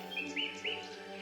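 Birds in the video game Beyond the Edge of Owlsgard chirp in a few quick, rising tweets, soft and somewhat distant over a faint ambient hum.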